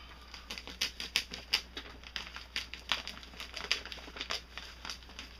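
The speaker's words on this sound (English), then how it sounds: "what you want to do is take a knife and you want to cut the bottom of the soil." A knife slices open a plastic bag of garden soil for filling a 3x3 raised bed, giving a close series of rapid crinkling, tearing rustles and small ticks in quick irregular bursts.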